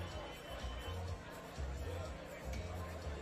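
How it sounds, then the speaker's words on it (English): A crowd murmurs at an evening softball game at the Blue Jays playing fields, a steady distant babble of many voices with low rumbling swells, no single voice standing out. "got a pretty good crowd on hand here at the Blue Jays playing fields"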